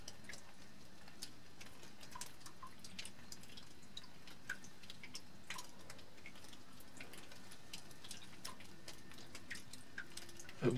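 Water trickles and drips down the rock of a dark sandstone gorge in Saxony's Elbe sandstone area near Stadt Wehlen, a faint, steady patter of scattered drops and light flow, heard alone without talk.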